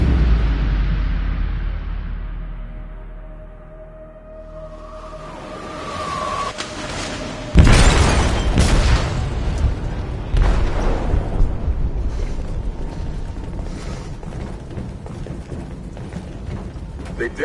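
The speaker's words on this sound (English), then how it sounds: "They detonated an explosive in the hold." An explosive detonating in a ship's hold in Detroit: Become Human, a sudden loud blast that follows a quieter tonal stretch and gives way to a long, heavy rumble with scattered crackles and debris.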